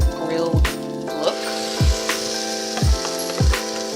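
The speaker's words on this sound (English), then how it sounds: "once you put the patty down, you do want it to sizzle. Sizzle but not burn." Steady crackling sizzle of a plant-based Beyond Burger patty on a hot grill pan, continuous and close, with a few low thumps and clatters recurring roughly every second.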